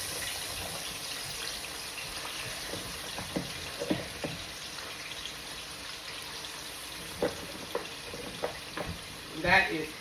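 Sliced French-fry-cut potatoes, seasoned, frying in hot oil as fish and fries cook: a steady close crackling sizzle with scattered sharper pops and clinks, louder bursts near the end, no talk.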